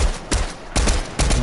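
Fortnite gunfire comes in three close, loud bursts of rapid shots, evenly spaced across a short stretch.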